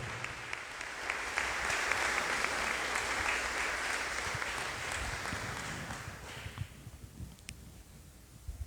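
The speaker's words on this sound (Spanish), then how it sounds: "Fuerte aplauso a nuestro patrón." A congregation at Mass in Diriá, Granada, applauds for its patron saint San Pedro; fairly quiet, even clapping carries through the church for several seconds, then thins out and fades into scattered claps.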